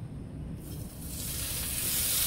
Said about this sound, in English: Now I'm going to add my pancetta in the same pan.